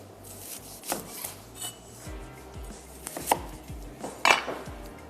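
A knife slices an onion finely on a cutting board, giving a series of close, crisp chopping knocks at an irregular rhythm, with a couple of sharper clacks near the end and no talking.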